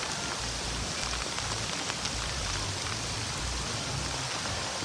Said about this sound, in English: There's a little bit of rain.